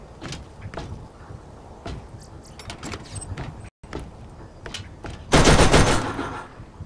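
Turret machine gun fire in the Borderlands video game, rapid bursts of shots repeating across the clip, with a louder, denser volley near the end and no talking.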